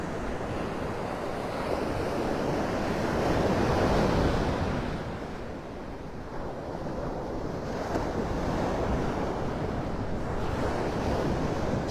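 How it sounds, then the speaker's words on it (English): Steady roar of Gulf of Mexico surf at Naples, Florida, with waves washing in and receding, mixed with gusty wind buffeting the microphone; no voices. "it's the sounds of the ocean coming from the Gulf of Mexico"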